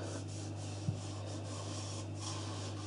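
A gun being rubbed clean with a synthetic cloth: steady close scrubbing and rasping friction strokes over a constant low hum, with one soft knock partway through.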